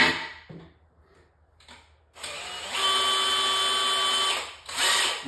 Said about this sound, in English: I'm running the drill at a slow speed